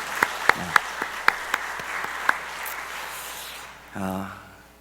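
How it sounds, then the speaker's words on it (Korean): A church congregation at a Wednesday prayer service gives a sparse round of scattered claps, a handful of sharp hand strikes spread over a couple of seconds, followed by a voice starting to speak. "우리 박수로 잠깐 격려하면 좋겠습니다"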